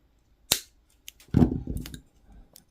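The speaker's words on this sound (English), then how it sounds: "And then I'm just going to wrap it around a couple of times while I hold the loop up top, and then just trim off the excess" Wire cutters snip excess wire while a pearl necklace is finished, a sharp single click followed by soft handling rustles and small metallic ticks, close and quiet.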